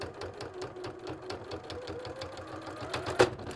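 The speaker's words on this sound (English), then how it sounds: "Made the noise of a broken needle." A sewing machine running steadily at close range, its needle clattering in a fast even rhythm with a sharp snag near the end as the needle catches; quiet and heard alone.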